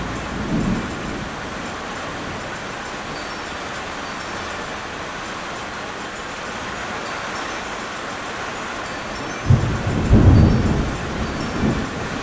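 Thunderstorm with steady heavy rain and a deep, rolling thunder clap near the end, a fainter rumble at the start, heard during outdoor Maori wood carving.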